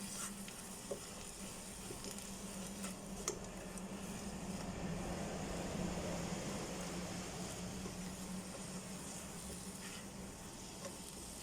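Onions browning in a pan with beef juices for goulash make a soft, continuous sizzle that builds a little toward the middle, with occasional light ticks of a utensil and no voices.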